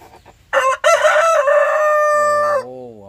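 A Light Sussex rooster crows loudly and close by in one long drawn-out call, followed by a softer trailing warble.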